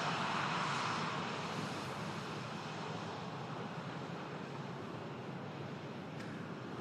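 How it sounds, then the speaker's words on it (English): A Virgin Atlantic Airbus A380 taxis at Manchester Airport, its jet engines giving a broad, steady roar that swells slightly at the start and then holds constant at a distance. "about to taxi out, we have the Virgin Atlantic A380."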